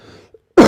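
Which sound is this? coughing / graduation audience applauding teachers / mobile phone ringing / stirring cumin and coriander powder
coughing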